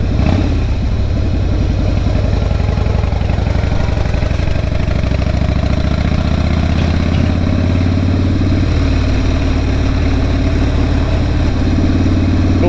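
A Harley-Davidson motorcycle engine running on the road, a loud, close, continuous low throbbing rumble with a steady mechanical pulse and slight shifts in pitch, with no voices.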